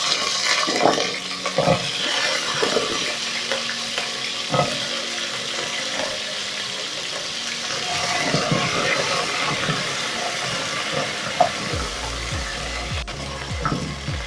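Potatoes are tipped into a pan of frying onions, setting off a loud, steady hiss and crackle with occasional clatters throughout.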